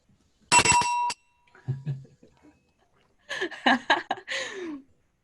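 A bright bell rings once at a Rotary Club meeting, sustained and clear, followed by a short burst of chuckling and then people laughing.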